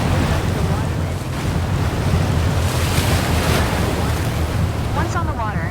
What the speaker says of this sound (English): Once on the water, the aircraft will slow hydrodynamically.